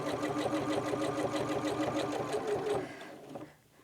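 A sewing machine stitches a tote bag strap with a fast, even mechanical whir close by, then winds down and stops near the end.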